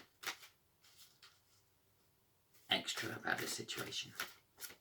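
Soft riffling and flicking of tarot cards being shuffled, in bursts, followed by a longer quick shuffle; a voice speaks quietly at the start.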